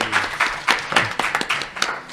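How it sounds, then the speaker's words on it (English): Audience at the close of a manufacturing panel gives a short burst of clapping, dense and fairly close, rising and falling over about two seconds with no talk. "if you wouldn't mind a quick round of applause"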